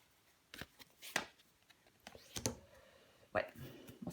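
Tarot cards being handled and laid down on a table, giving several soft, brief slaps and shuffling rustles spaced out over a few seconds, close and fairly quiet.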